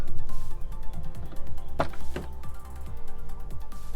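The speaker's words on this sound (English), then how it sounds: "The door just closes and locks unbelievably good." Close mechanical clunks and ratcheting clicks of a Nissan Silvia S15 car door shutting and latching, followed by a short whir and clack as the lock engages.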